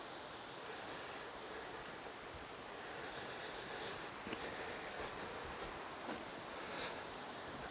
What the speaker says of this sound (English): Yep, you can hear the falls up there.